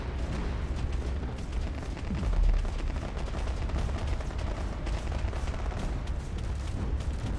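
Missile fire during a Space Engineers StarCore tournament battle, with dense continuous rumbling launches and thuds layered into heavy booming, loud and unbroken for over seven seconds without talk.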